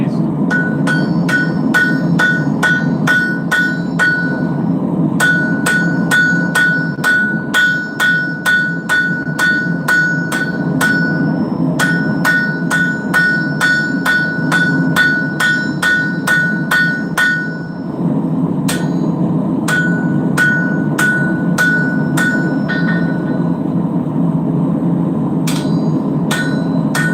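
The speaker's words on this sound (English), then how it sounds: "kind of let the hammer just drop on its own." A hammer strikes steel at a blacksmith's forge in a long, steady run of ringing metallic blows with brief pauses between bursts, loud and close over a constant low roar from the forge.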